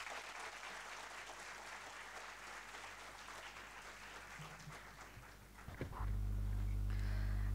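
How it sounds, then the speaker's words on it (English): Audience at a public lecture applauds the speaker with steady broadband clapping for about six seconds, then it cuts off abruptly into a loud low hum. "I would like you to show your appreciation with a good applause to the speaker."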